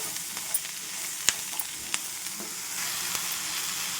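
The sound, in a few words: ridge gourd pieces being stirred and frying in a pan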